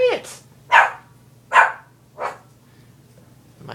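A dog barks four times at an even spaced rhythm, loud and close, with short bursts and quiet gaps over a low background hum.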